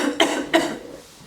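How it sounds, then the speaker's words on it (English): Two short, close coughs about a third of a second apart, followed by quiet breathing. "Just having a coughing fit."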